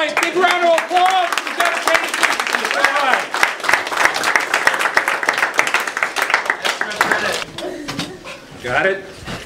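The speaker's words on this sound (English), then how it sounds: "All right, big round of applause." An audience claps and cheers after a college physics professor's bed-of-nails demonstration, with dense, loud applause and whoops running for several seconds before tapering into scattered claps.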